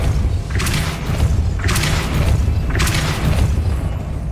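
Depulso, a force-push spell in the game Hogwarts Legacy, is cast three times: evenly spaced booming thumps with a sharp whooshing burst on each, loud and close, with steady game ambience between them.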